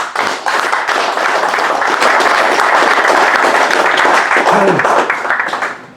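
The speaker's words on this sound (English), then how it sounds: "How about a nice round of applause?" A live audience at a men's ministry gathering bursts into sustained applause, loud and dense clapping filling the room for the whole stretch, with faint voices mixed in near the end.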